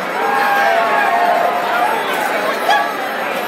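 A concert crowd at a show sends up a steady wall of cheering and chatter that holds loud for the whole stretch, with a few whistles and shouts rising near the end.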